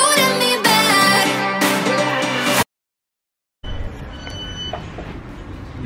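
A passenger train rolls along the rails on a day trip to Brighton: music plays first, then after a brief silence comes a steady, close rumble of the carriage with faint rattles and squeaks.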